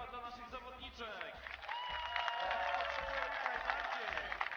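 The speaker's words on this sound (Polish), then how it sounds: "a teraz jeszcze raz wielkie brawa dla naszych zawodniczek" Clapping from the audience at a women's 3-on-3 competition in Poland versus Spain, a steady broad wash of applause that swells and holds under an announcer's voice.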